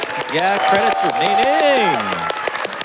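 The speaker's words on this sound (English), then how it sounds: "So can we give a big round of applause for credits remaining staff?" Dense audience applause and clapping at the Summer Games Done Quick 2025 speedrunning marathon, a steady crowd of hands in honour of the event staff, loud and continuous throughout while someone speaks over it.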